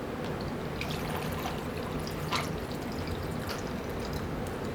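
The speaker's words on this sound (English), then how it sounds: "then we're gonna go in with water" Water pours steadily into a plastic deli container packed with ice for state fair lemonade, a continuous splashing trickle heard close up with no talking.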